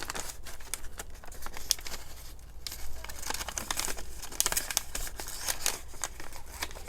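Paper crinkles and rustles up close as its corners are folded to make a seed-starting pot, a quiet, continuous patter of small crisp crackles with no voice.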